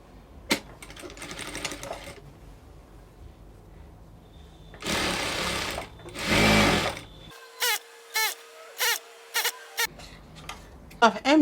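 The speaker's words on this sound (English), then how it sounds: "So I'll be hemming the bottom part of the flay." A sewing machine hems the bottom of a wrap dress, with one long steady run of stitching, then a string of short quick bursts, heard up close amid quiet handling noise.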